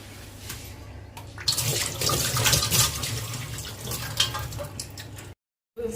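Dishes being washed under a running kitchen tap, with a steady rush of water and clattering splashes that swell in the middle, then a short silence before the flow resumes.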